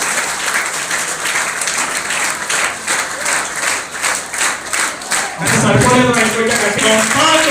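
A crowd at a Saraswati homam ceremony in a Nandyal temple hall claps loudly in steady rhythmic applause, then a voice and murmuring rise over the clapping for the last couple of seconds.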